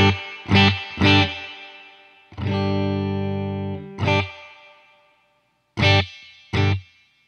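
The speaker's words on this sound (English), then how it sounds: "this reverb will just be getting the very highest frequencies" Electric guitar run through a variable crossover pedal, with reverb applied only to the very highest frequencies: plucked notes and a sustained chord ring out, separated by short silences, with a shimmering effected tail.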